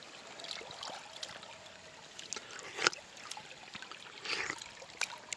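Clear water of the Radovanska river in Serbia trickling and babbling over stones, a soft steady flow with small splashy bursts, fairly quiet and without voices.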